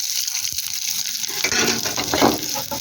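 Shallots and garlic frying in a pan and being stirred, a steady wet sizzle with scraping spoon strokes swelling near the end.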